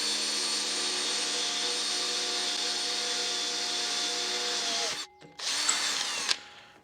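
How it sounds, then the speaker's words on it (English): Power drill boring holes in a garage, a loud close steady whine for about five seconds, then it stops, briefly restarts and cuts off. "I've got to drill the holes"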